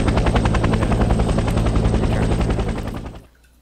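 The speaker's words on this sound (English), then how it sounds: "we're going to embark them onto a Huey helicopter" A Huey helicopter in the video game Vietnam '65 thumps with a loud, rapid, steady rotor beat that cuts off and fades near the end.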